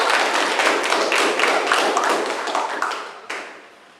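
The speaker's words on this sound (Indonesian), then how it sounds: "Kita kasih aplaus dulu." Classroom applause from students in an Indonesian lesson, a dense, steady patter of many hands clapping for several seconds before tapering off near the end.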